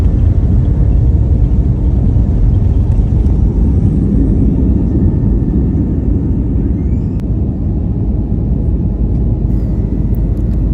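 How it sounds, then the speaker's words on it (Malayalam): Constant low, heavy engine rumble filling an airplane cabin in flight, steady and droning with no speech. "ഫ്ലൈറ്റ് കയറി ദമാമിലേക്കുള്ള ഫ്ലൈറ്റിലാണ് ഉള്ളത്"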